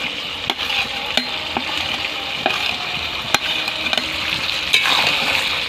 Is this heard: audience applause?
no